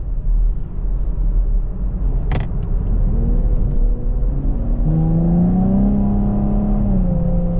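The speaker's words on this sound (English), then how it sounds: "So great job, Chevy, on this exhaust." A 2024 Chevrolet Camaro 2LT RS V8 engine rumbles steadily and then rises in pitch as it accelerates, a deep exhaust drone filling the clip without any voices.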